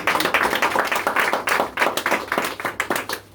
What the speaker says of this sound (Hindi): जबरदस्त तालियां सर के लिए।